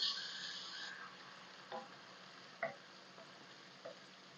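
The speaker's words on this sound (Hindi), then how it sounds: "2 टेबल स्पून लहसुन अदरक का पेस्ट है, ये शामिल करेंगे, फ्राई करेंगे।" Garlic ginger paste frying with lightly browned onions in a pan for dhaba style chana dal, a faint, soft sizzle with a few light clinks of a spoon stirring.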